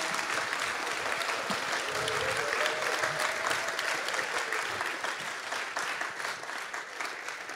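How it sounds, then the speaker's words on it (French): Audience at an awards ceremony for digital-sector prizes applauds steadily, a dense wash of many hands clapping at moderate distance that holds for several seconds before slowly thinning out. "on peut les applaudir."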